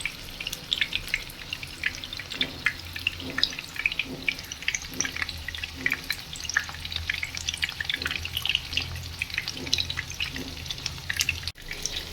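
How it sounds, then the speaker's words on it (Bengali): Banana flower fries in a little oil in a pan, with a soft continuous sizzle and crackle punctuated by regular spoon stirring, close and fairly quiet, with no voices. "ওপর থেকে তেলটা ছড়িয়ে দিলে দুই দিকটা ভালো করে ভাজা হয়।"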